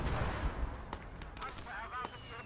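Mortar and gunfire in Gates of Hell: Ostfront multiplayer battle: several sharp distant blasts punctuate a busy, rumbling low-end din, with faint whistling streaks between impacts.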